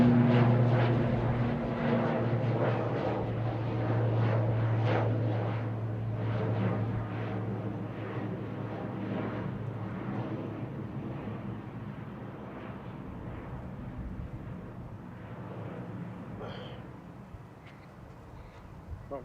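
A plane at Manchester Airport produces a steady loud engine roar that slowly fades, heard from a distance outdoors with faint voices at times.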